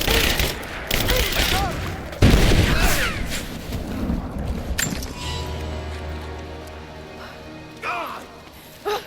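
Gunfire erupts in a Rise of the Tomb Raider battle at a Soviet base, with dense overlapping shots and booming blasts crowding the first half, then thinning into sporadic reports over a steady low hum, while shouting voices carry over the fighting.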